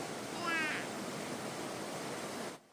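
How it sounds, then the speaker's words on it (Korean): Heavy rain drums loudly on a clubhouse roof, a dense, steady hiss-like roar that continues unbroken before cutting off abruptly at the end, with a brief faint chirp early on. "4년째 살고 있는 클럽하우스는 비가 한 번 오면 이런 소리가 나거든요."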